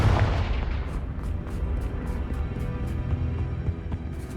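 Confringo fire-blast spell cast in the video game Hogwarts Legacy: a loud boom at the start that trails into a sustained rumbling, crackling roar with faint rhythmic ticks, no talking.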